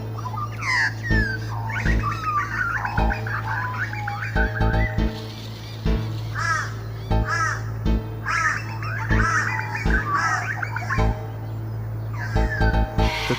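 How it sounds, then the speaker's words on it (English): Crows caw harshly and repeatedly in an urban setting, their rough calls overlapping and rising and falling over a steady low mechanical hum, with several birds calling near and farther off. "The local birds, including crows, signal their displeasure at this littering interloper."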